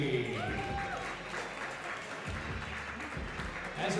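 Audience applause for the women's 75 kg class winner at a powerlifting meet, a deadlifter, as a steady wash of clapping that carries through the whole stretch with talk mixed in underneath.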